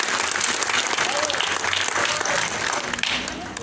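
Dense, steady applause from a crowd at a swearing-in ceremony for a municipal official in San Andrés Huaxpaltepec, Oaxaca, filling the whole stretch loudly with a faint voice over the top.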